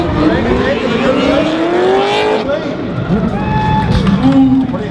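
A big Holden Commodore drift car roars through a chase at a D1NZ drifting championship round in Tauranga, its engine rising and falling in revving sweeps while a commentator talks over it.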